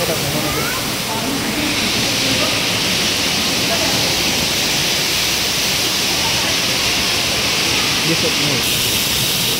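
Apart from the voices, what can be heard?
waterfall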